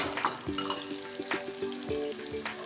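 Ginger garlic paste frying in a pan as a spoon stirs it, a steady sizzle broken by several sharp scraping strokes of the spoon against the metal, close and fairly quiet, with no voices.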